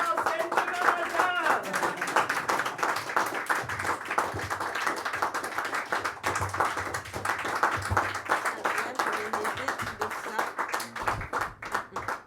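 Audience applauds and claps at a slam poetry tournament in Antibes as a performer makes her way onto the stage, with steady clapping throughout and voices and cheers mixed in the hall.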